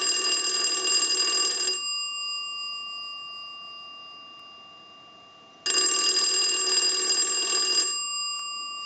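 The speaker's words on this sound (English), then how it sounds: "So we'll go ahead and ring the unit." An Automatic Electric three-slot payphone's ringing signal, picked up electrically rather than from a bell, comes as two long, steady buzzing ring bursts separated by a few seconds of near silence.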